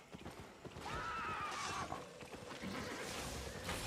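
Video game horse clip-clopping steadily with a brief whinny, hooves thudding in an even rhythm under faint ambient game sounds.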